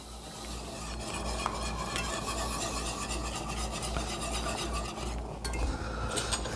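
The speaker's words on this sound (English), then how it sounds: "Get that stirred up." A utensil stirs seasoned pork chops, spiced with black pepper and seasoned salt, in a hot sizzling pan, a continuous close scraping and frying hiss with no talking.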